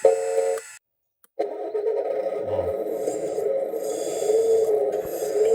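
A K966 KABILITE toy hydraulic wheel loader runs with a steady electronic motor drone. A short cutout of near silence comes first, then the drone continues evenly and fairly close to the end.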